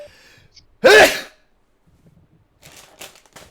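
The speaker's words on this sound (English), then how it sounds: "Oh god, I'm gonna sneeze." One loud, close sneeze bursts out sharply after a quiet lead-in, followed by faint rustling and small noises from someone playing Fire Emblem: Path of Radiance.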